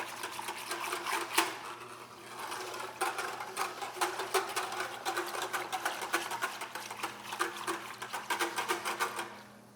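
A clean whisk stirs sanitizer into water, making fast, steady, close rattling and swishing with brief pauses and no talking.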